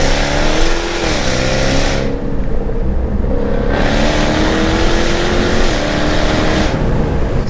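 A methanol-injected 700bhp Jaguar F-Type S accelerating hard on a road, its engine note climbing loud and close through gear changes, with brief dips between shifts and a constant roaring drone throughout.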